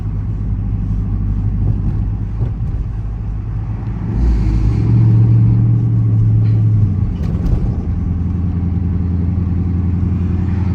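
A Dodge Charger R/T engine hums low and steady from inside the cabin while driving at night, a soft rumble with a brief swell in the middle, otherwise quiet.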